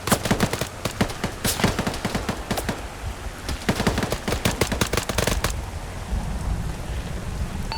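Gunfire during a military team operation: loud, rapid bursts of shots with sharp repeated cracks over a rumbling background, thinning out after about five seconds into a low rumble.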